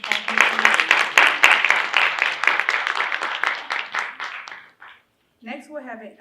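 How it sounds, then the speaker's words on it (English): An audience at a university Women's History Month kickoff claps for a woman who has just performed. The crisp, rhythmic claps fade out over about five seconds, and then a voice starts speaking. "Can we give her one more round of applause,"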